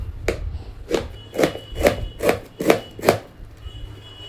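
A knife chops vegetables on a board in about seven evenly spaced, crisp thuds, close and clear against a quiet room, with no speech.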